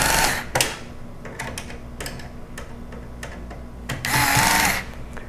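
A cordless drill with its clutch set to 3 drives screws while a desktop computer is assembled, giving a close loud whir at the start and a longer burst near the end, separated by light ticks and clicks.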